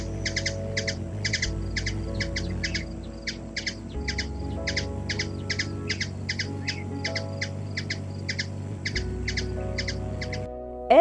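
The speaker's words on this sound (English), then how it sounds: "You can even talk to your pet and ask it to sing." A virtual pet bird in a HoloLens app sings a long run of quick, bright chirps in a steady rhythm, clear and close over a faint electronic backdrop, ending abruptly.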